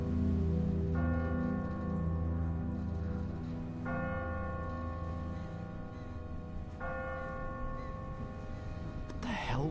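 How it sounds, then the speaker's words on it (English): A church bell tolling in The Walking Dead video game, sounding three slow, resonant strikes a few seconds apart over a steady low background hum. "Ask not for whom the bell tolls."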